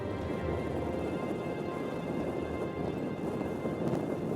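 Heavy rain pours down with a dense, steady roar during an Arctic hurricane near the Bering Strait, and gusting wind rumbles underneath throughout.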